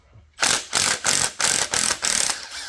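A ratchet clicks in six quick bursts, close and loud, as it loosens water pump bolts on a 460 engine during a teardown, each burst a rapid run of pawl clicks separated by short pauses.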